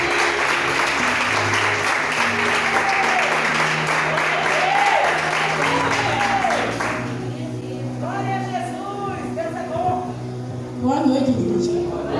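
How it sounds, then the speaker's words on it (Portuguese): A church congregation at a worship service bursts into loud, sustained applause, dense clapping for about seven seconds that thins into scattered claps with voices speaking over it. "Vamos aplaudir ao Senhor pela vida da Sônia. Vamos bem forte."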